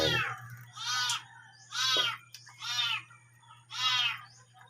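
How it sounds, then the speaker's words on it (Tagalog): A cat meows five times in a steady, evenly spaced series, loud and close, over a faint constant low hum in an otherwise quiet early-morning room. "Ang aga-aga naman, ingay-ingay ng pusa."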